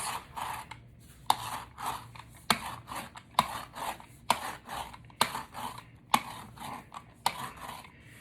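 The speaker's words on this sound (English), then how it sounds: "And your parsley is chopped." Parsley chopped with a hand-operated chopping gadget: a series of sharp, regular clacks about once a second, each followed by a short rasping whir, close and clear with no talking.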